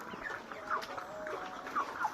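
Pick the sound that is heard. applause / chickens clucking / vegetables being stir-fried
chickens clucking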